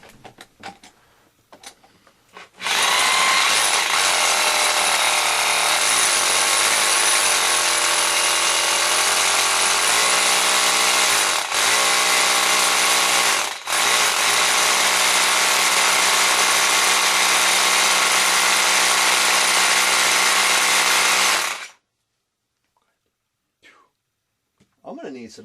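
Power drill boring steadily into the floor to bolt down a gun cabinet, a loud continuous whine held for about twenty seconds with a brief dip midway, starting and stopping abruptly, with voices heard around it.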